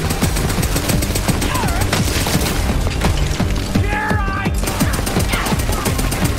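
Rapid infinity pistol gunfire in Borderlands 3, a dense, continuous stream of sharp shots with mechanical clatter and game effects layered over a busy backdrop, loud and close throughout.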